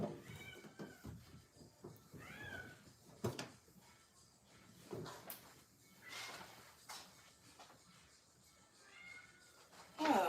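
Several cats let out scattered meows, faint to moderate and irregularly spaced, in a quiet indoor room with some small rustles between cries.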